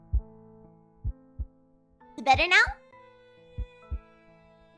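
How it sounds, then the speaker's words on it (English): Periodic heartbeat sound effect from the horror video game A Tithe in Blood, low thumps in pairs at a slow steady rhythm, with a child-like voice speaking briefly in the middle. "By the heartbeat, is it too loud?"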